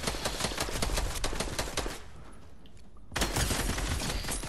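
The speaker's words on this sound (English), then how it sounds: "you keep shooting him, I'll shoot this guy" Rapid bursts of automatic gunfire during a video game shootout, dense and continuous, easing off briefly in the middle before a loud volley resumes; no talking over it.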